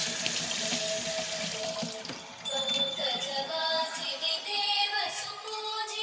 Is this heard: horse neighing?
no